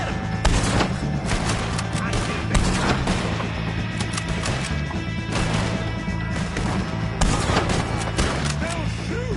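Dense, continuous gunfire and crashes in Red Dead Redemption 2, loud and close throughout, with repeated sharp impacts over a busy background.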